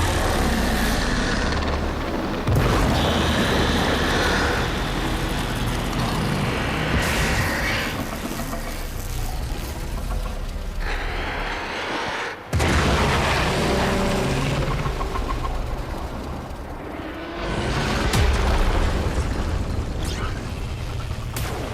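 Explosions in the video game Warframe roar as loud, broad rumbling bursts that swell and fade repeatedly over a dense, noisy background.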